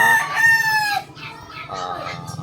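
A chicken being bathed with water from a bucket gives a loud, drawn-out harmonic call for about a second, then shorter, softer clucking cries continue nearby.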